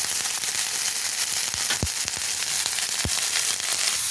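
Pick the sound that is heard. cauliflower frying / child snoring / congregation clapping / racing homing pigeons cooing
cauliflower frying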